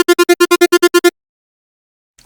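Granular Phase Plant synth patch built on a colored saw wave, playing ten short, evenly spaced, buzzy harmonic-rich pulses in quick succession, then silence with a faint trailing blip at the end.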